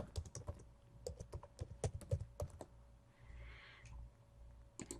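Keys clatter on a computer keyboard as a folder name is typed, a quick irregular run of close, crisp clicks that pauses briefly before a short final burst.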